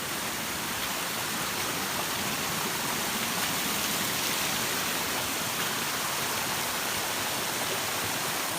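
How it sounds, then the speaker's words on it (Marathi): A small waterfall in a hidden tribal spot in Palghar, a steady, even hiss of falling water that stays constant and moderately loud throughout. "तर हा एक धबधबा आहे वाव खूपच सुंदर"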